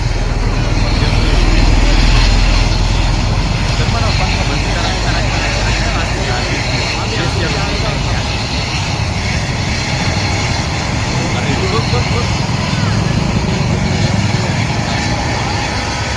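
A helicopter runs with a steady, loud engine roar and rotor drone at an outdoor political rally on a dusty ground in Junnar, continuous throughout with a slight swell early on.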